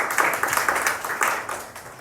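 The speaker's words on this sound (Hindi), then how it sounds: "ताली बजा दो इसके लिए।" A class of students in a school classroom clap together in a short, steady round of applause, moderately loud with no talking over it.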